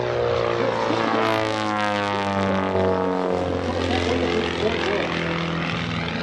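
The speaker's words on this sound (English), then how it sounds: "Watch him as he tumbles the airplane, nose for tail, tail for nose, as he dives it back in" A high-performance aerobatic Pitts propeller biplane dives back toward show center at an airshow, its engine roaring steadily and loud throughout with a shifting pitch as it tumbles, while an announcer talks over it.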